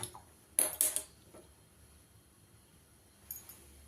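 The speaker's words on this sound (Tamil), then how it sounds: "இப்போ நாம் இந்த கடாயை அடுப்பில் வச்சு அடுப்பத்தை வச்சிடலாம்." A metal kadai set down on a kitchen stove while making bread halwa: a couple of sharp clattering knocks close together early on, then quiet, with a smaller clink near the end.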